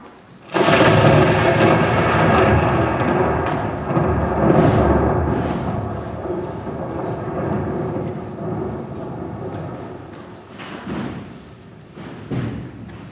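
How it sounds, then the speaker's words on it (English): Thunderstorm sound effect in a stage play: a sudden loud crack of thunder gives way to a long, heavy rumble that slowly fades, with a couple of later thumps over a rain-like hiss. "It would be a shame to have a thunderstorm just now, wouldn't it?"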